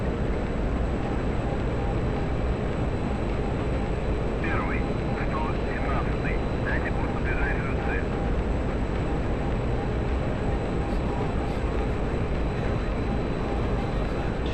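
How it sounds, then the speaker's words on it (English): A jet's afterburner in the DCS flight simulator game roars as a loud, unbroken, broadband engine drone that fills the whole stretch, with a faint brief voice-like murmur partway through. "That's an afterburner."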